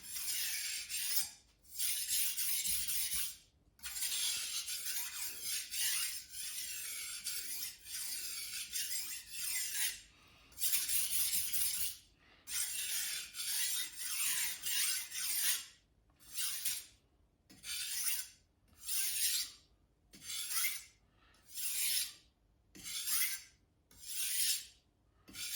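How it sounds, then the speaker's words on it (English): A Wusthof santoku knife scrapes along an Ancient Ocean Jasper sharpening stone in close, rasping strokes, first in long continuous passes, then in quick, evenly spaced back-and-forth strokes separated by short pauses. "make it fairly straight so I can make a fast run of this sharpening session."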